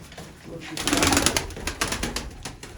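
Young pigeons cooing inside a loft, with soft overlapping coos and wing shuffles close by, while people talk quietly in the background.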